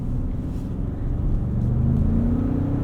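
A 2025 Ford Expedition Max Platinum accelerating, heard from inside the cabin as a loud, steady low engine rumble that climbs in pitch toward the end, with no talking.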